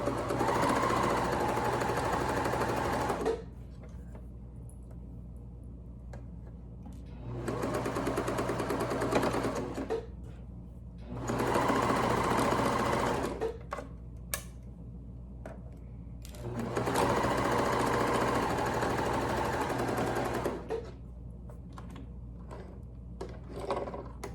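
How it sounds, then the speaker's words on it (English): A sewing machine stitches stretchy neck gaiter material in four loud bursts of a few seconds each, separated by quiet pauses with faint handling clicks as the fabric is turned. "Okay, so now we have that sewn"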